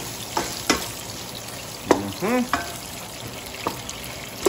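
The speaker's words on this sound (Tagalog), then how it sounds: "Saka po natin igigisa ang ating mga ricado, no? Gisa po muna natin sila." Aromatics being sautéed for rabbit adobo crackle faintly in a pan, with a few louder stirring scrapes and brief sizzling bursts over a low hissing background; no talk.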